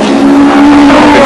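A Formula One Lotus with 3-litre Ford Cosworth power races at Oran Park, its engine a loud, sustained high-pitched scream close by.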